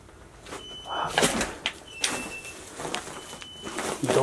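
A door in a fire-gutted house bangs and scrapes in a few sharp knocks and thuds, with rustling and movement around them and no speech.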